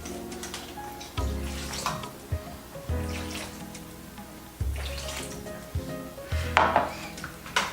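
Water being poured into cornstarch to make oobleck, heard as close splashy pouring and clinking of a bowl or dish with several louder knocks and bursts, no talking.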